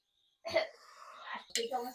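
A person with a cough after a cold coughs and clears their throat in a few rough bursts, close up, after a short silence.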